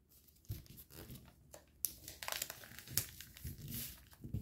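Sheet of paper being creased and folded for an origami fighter jet, with close, crisp crinkles and rustles and a few sharper snaps, no talking.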